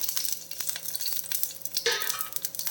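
Garlic cloves fry in hot oil for chutney, a close, continuous crackling sizzle with frequent stirring scrapes and a sharper burst of spitting partway through.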